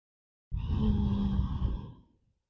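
One long, steady exhale during a folded yoga pose, close and soft, lasting about a second and a half before trailing off into silence.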